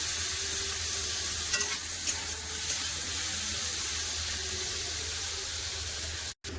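Steamed papaya pieces fry in hot mustard oil in a kadai, giving a steady close sizzle throughout with a few faint stirring scrapes.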